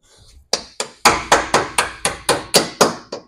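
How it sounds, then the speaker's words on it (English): Hammer blows driving bolts into a Mack Cruise-Liner truck frame during frame installation: nine loud, sharp metallic strikes in a steady rhythm, close by, following a brief quiet rustle. "Let me get a hammer, see if we get these bolts in."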